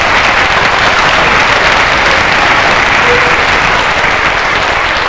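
A school audience at a fitness jump rope event claps and cheers continuously, a dense loud wash of many hands with no break.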